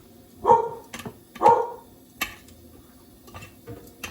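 A dog on a house porch barks at passers-by: two sharp, loud barks about a second apart, then only faint scattered clicks and ticks in the quiet that follows.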